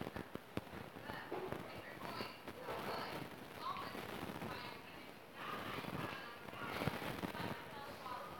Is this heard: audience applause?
no